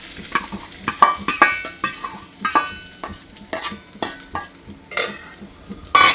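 Cashews tossed into a frying pan and stirred while frying for a home recipe: repeated sharp scrapes and clinks of a spoon against the pan over a faint sizzle, close and loud, no talk.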